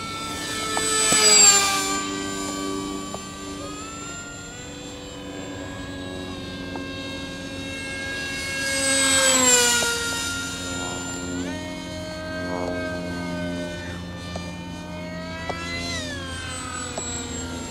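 An electric RC model plane flies overhead, its high whining motor rising and falling in pitch over two close passes, loud as it passes and fainter between, with no talk.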